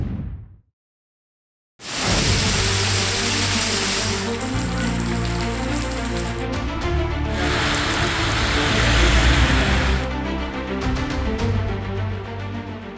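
Heavy monsoon rain pours down in Himachal, a dense, loud, steady hiss of falling water that starts abruptly after a brief silence and swells slightly toward the end.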